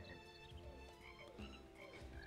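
Frogs croak in a repeating chorus, a steady layered song of calls pulsing over a constant background hum, fairly quiet and with no talk.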